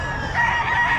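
A rooster crows loudly and close among chickens at a market in Batangas, a single sustained harmonic call filling the short moment.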